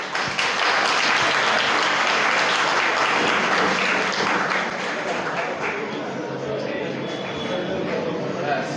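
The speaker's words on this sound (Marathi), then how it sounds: "सर्वांनी टाळ्या वाजून" An audience at a certificate presentation ceremony breaks into loud, sustained applause, a dense crowd clapping that fades slightly toward the end.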